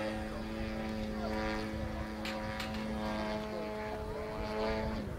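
An RC model airplane performs freestyle aerobatics at an airshow, its propeller engine buzzing steadily with a sustained droning tone that shifts slightly in pitch, moderately close and without pause.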